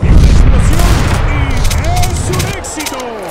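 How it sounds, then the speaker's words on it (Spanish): Loud bursts of gunfire in the online shooter Counter-Strike 2, dense rapid shots and booming reports packed together near the listener, with a voice talking over the shooting and the noise thinning toward the end. "Vemos algunos disparos, las balas pasan a solo unos centímetros de los jugadores."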